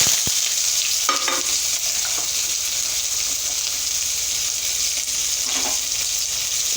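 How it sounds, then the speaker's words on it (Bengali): Onion and garlic frying in hot oil, a dense continuous sizzle close to the pan, with occasional stirring clicks and scrapes. "পেঁয়াজ রসুনটাকে একটু ভেজে নেব।"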